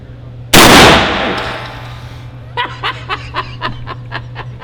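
A single loud, close shotgun blast from a Federal rifled slug loaded to 1,610 feet per second booms out and rings down, then a few seconds later comes a run of short bursts of laughter.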